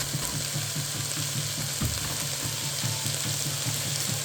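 Quinoa with zucchini is stirred in a hot pot, a steady low sizzle with a fast, regular pattern of soft spoon scrapes underneath, close and continuous.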